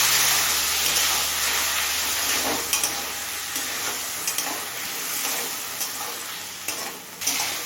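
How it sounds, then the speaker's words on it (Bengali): Vegetables sizzle and sauté with spices and a splash of water in a hot pan for a fish curry, a loud, close hiss broken by occasional scraping stirs. "এবার সামান্য পরিমাণে একটু জল দিয়ে সবজিটা কষিয়ে নেব।"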